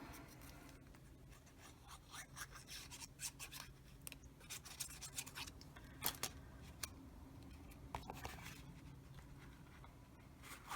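Scissors cut paper for a passport folder, giving faint, close snips and papery rubbing in an irregular series, heard alone without speech.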